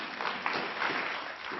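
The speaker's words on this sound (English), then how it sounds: "Round of applause to all the Booker T people in the house" Audience applause at a symposium with an author, a dense steady wash of clapping lasting the whole short moment, fairly close and even, with no talk over it.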